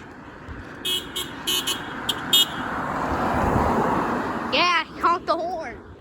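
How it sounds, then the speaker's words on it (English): A car horn honks in several short toots spaced unevenly across the clip, with traffic rumble underneath and a voice speaking near the end. "Honk the horn."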